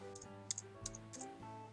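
Keys on a computer keyboard are typed in a short burst of light, sparse clicks while a website address is entered, quiet and close with no voices.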